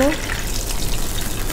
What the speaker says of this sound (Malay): Okey, jadi minyak ni saya tak nak guna banyak. Saya tuang sikit dalam ni.